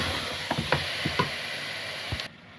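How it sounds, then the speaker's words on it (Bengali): Meat frying in oil for a cabbage curry: a steady broadband sizzle with several sharp clicks and scrapes of stirring, ending abruptly. "মাংসকে আমি একটু তেলের মধ্যে ভেজে তারপর পেঁয়াজ দিয়ে দেবো।"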